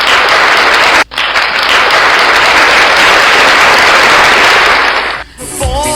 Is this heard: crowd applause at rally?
yes